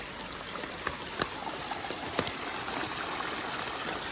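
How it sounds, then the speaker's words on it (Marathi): A rain-swollen stream in the Konkan countryside rushes after a heavy downpour, a steady broadband roar of flowing water with a few faint splashes, with no voices. "आता बघा पर्याला पाणी आलंय."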